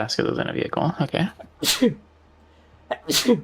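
Two sharp sneezes ring out clearly in a home livestream setting, the first following a stretch of casual talk and the second arriving alone after a brief pause.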